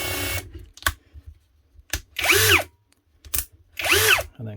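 A copy Makita cordless drill from Amazon runs in hammer mode in loud, short bursts with a rising and falling whine, broken by clicks and pauses between triggers.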